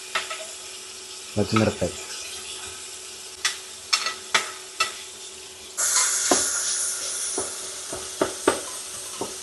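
Onions frying with curry leaves and green chilies in a pan give a steady sizzle, broken by several sharp stirring scrapes and clinks of a spoon against the pan, close up, with a few brief spoken words.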